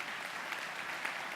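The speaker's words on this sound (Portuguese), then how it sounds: "Aplaude o Senhor por essa palavra maravilhosa." A church congregation claps together in praise, a soft, continuous patter of many hands heard at a distance, steady and unbroken throughout.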